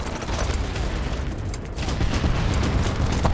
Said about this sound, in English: that one guy literally just explodes